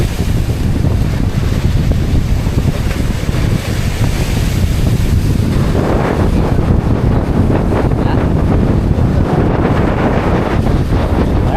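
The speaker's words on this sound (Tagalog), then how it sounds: "laki na ng mga alon." Large waves on the open Pacific Ocean heard from aboard a small boat, with a continuous loud rush of water and heavy wind buffeting the microphone throughout, surging more strongly in the second half.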